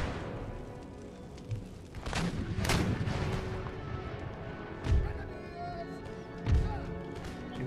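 Musket volleys and cannon fire from soldiers opening up on militia in the battle game Empire Total War, with a few heavy booming blasts rising over a constant rumbling din of battle.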